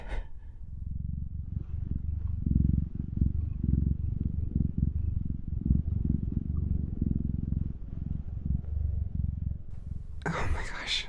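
A voice imitates a cat's purr, a low rumbling flutter pulsing steadily and close for several seconds in a quiet, intimate setting, ending with a breathy sound.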